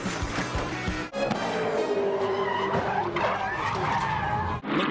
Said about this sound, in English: Heavy contact at the cutting.